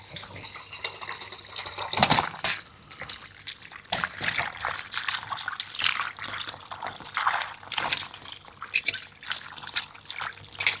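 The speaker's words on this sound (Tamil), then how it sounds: "இப்போ தண்ணியில் போட்டு நல்லா அலசி எடுத்துப்போம்" Peeled pumpkin pieces are rinsed by hand in water, with close sloshing, trickling and splashing in irregular bursts and some kitchen clatter.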